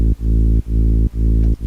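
Bass-heavy sustained synth chords from an FL Studio big room production with a Pro Q2 EQ cutting the high end, four muffled pulses in steady rhythm, loud and alone.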